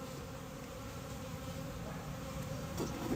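Honeybees hum in a steady, low buzz as the top of a hive box is lifted during a winter inspection, fairly faint and continuous with no talking.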